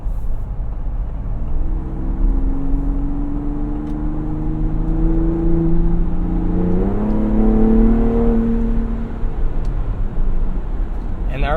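A 2022 Ford Bronco Raptor engine drones loudly from inside the cab in normal mode, its pitch rising as it revs and then easing back down, steady and close.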